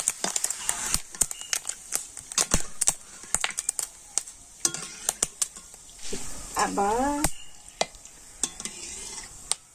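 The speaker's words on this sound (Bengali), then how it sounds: "এই সাবধানা ভাজতেও কিন্তু খুবই মজা লাগে কত সুন্দরভাবে ভাজা হয়ে যাচ্ছে" Sabudana (sago pearls) deep-fry in hot oil with a soft, steady sizzle. Sharp clicks and scrapes of a utensil stirring against the pan break in at irregular intervals, and a voice briefly talks over them.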